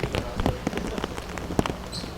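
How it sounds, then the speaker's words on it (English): Rain falling hard on a baseball field during a men's major world series game, a dense steady patter with scattered sharper drops and thumps, fairly close and continuous. "Home plate cam showing the rain, and it's pretty much looks just like it actually is."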